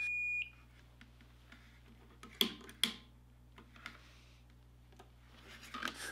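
Multimeter continuity tone from a test on a simple wired circuit with a switch, heard as a short steady beep at the very start, followed by a few faint clicks and handling noises in a quiet room.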